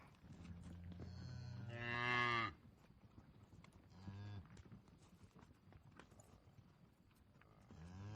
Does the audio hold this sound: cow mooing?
yes